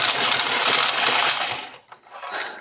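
An automatic card shuffler feeds cards one at a time, giving a dense, whirring mechanical rattle that runs loud for about a second and a half, then drops to quieter clicks and a short final burst.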